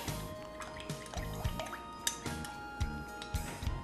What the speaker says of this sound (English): then you just pour it over your coleslaw mixture